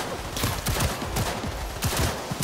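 Rapid bursts of automatic gunfire in Cyberpunk 2077 crackle continuously, with dense overlapping shots and a few sharper louder volleys, no voices.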